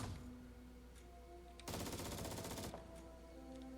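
A single burst of rapid automatic gunfire in the Jupiter Hell video game, about one second of dense machine-gun fire among quiet game ambience and faint tones.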